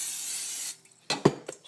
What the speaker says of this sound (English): I'm just going to spray it because that's what I have handy.